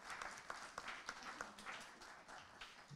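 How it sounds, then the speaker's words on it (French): Audience at a conference on an ecological district applauding the speakers, quiet and somewhat distant scattered claps in an irregular rhythm, with a few louder individual claps standing out. "je pense qu'on peut applaudir tous les intervenants sur la salle"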